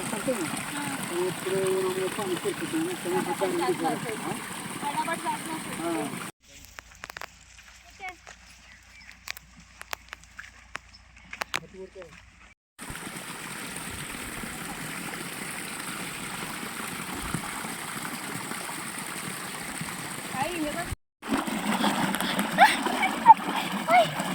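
Water flowing and splashing steadily, with voices talking over it, broken by a quieter stretch of sparse clicks and taps midway.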